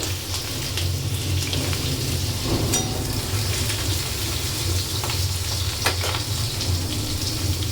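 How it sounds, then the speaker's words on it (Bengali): Long slices of pointed gourd fry in hot oil with a steady, rain-like sizzle that holds even and close throughout. Occasional faint crackles and stirring sounds break through. "পটলগুলো ভাজতে দিয়ে দিলাম"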